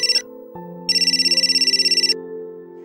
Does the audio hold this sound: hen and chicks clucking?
no